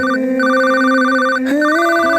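A phone rings at a brick kiln with a repeating electronic ringtone, bright pulsing tones cycling over a steady hum, briefly interrupted by a click before resuming.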